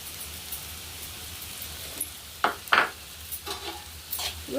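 Pounded chutney of garlic, curry leaves and chili being mixed in a bowl: a few short, close scraping stirs come in quick bursts over a faint steady background, with no voices.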